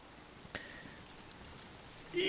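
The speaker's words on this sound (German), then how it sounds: "Ich habe die Schnauze voll von diesem Regen." Steady rain in Ghost of Tsushima, a soft, even hiss of drops falling on surfaces that runs unbroken throughout, with one brief sharp tone cutting through early on.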